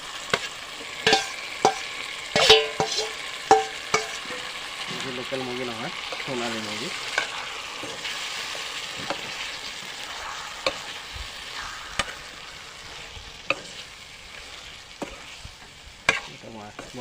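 Sonali (crossbred) chicken meat frying with potatoes and spices in a pan, a steady sizzle broken by sharp scraping and clinking stirs, with a person talking over it.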